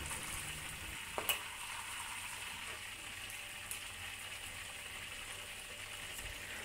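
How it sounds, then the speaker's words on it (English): Battered shrimp deep frying in hot oil for Kung Pao shrimp, a faint, steady bubbling sizzle with a couple of brief clinks of utensils early on and no talking. "Repeat to finish deep frying all the batches of shrimp."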